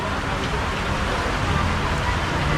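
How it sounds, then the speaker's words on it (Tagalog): Heavy rain pours steadily, a dense close hiss with drumming on a surface, unbroken throughout. "At malakas yung ulan mga kanepi."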